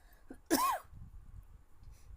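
One sharp, forceful cough bursts out close up, then only faint background hum remains.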